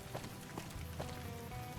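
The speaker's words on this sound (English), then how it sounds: "I don't love the rain sound effect." Steady rain hiss in Fallout: New Vegas, Honest Hearts, falling as an even, continuous wash with faint drop-like ticks throughout.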